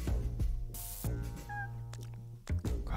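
Cartoonish cat meows from the game Deponia, a couple of short tonal calls with a brief whistle-like squeak, heard over a steady low background hum and music bed with no talking.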